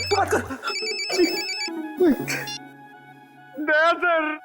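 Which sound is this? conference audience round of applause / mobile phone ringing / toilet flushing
mobile phone ringing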